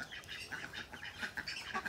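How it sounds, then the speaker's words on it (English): Muscovy ducklings peep in a busy cluster of short, high chirps, several overlapping notes repeating quickly and fairly close, with no talk. "And they're peeping. That's the only noise a muskie will ever make."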